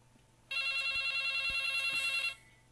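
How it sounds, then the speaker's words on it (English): A telephone rings in an indoor room with a steady electronic trill, loud and close, lasting under two seconds after a quiet start and then cutting off, with no talking. "that's the phone ringing"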